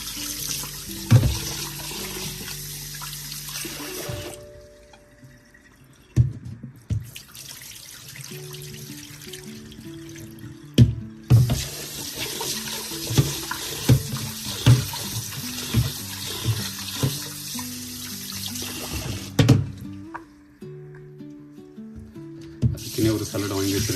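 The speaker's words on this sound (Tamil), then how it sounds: "கொஞ்சம் சில் தண்ணியில் வந்து நீங்கள் கழுவி" Rice is washed in cold tap water at a kitchen sink: bursts of running faucet water alternate with quieter gaps, plus clinks and swishing of grains in a vessel while a voice speaks at times.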